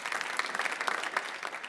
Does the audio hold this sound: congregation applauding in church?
yes